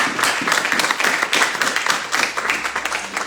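A church congregation applauds to acclaim the Lord during a service: many hands clapping in a lively, uneven patter for several seconds, close and full, with brief swells in intensity.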